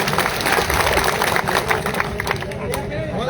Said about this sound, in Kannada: ಜೋರಾಗಿ ಚಪ್ಪಾಳೆ ತಟ್ರು ಹೋಪ